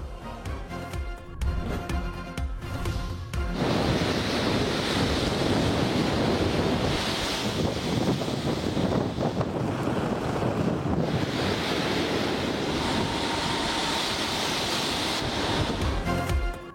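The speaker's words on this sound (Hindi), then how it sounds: "पाकिस्तानी साहिलों से टकराने के करीब साहिली पट्टी पर तूफान के असरात नुमाया।" Storm waves and gusting wind from Cyclone Biparjoy pound the Pakistani coastline: a continuous, loud roar of surf with heavy wind buffeting the microphone, steady throughout and with no voices.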